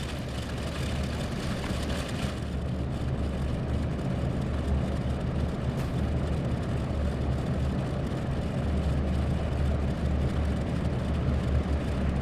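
A video game aircraft takes off, its engine making a steady, loud, low roar that continues without a break. No voices are heard.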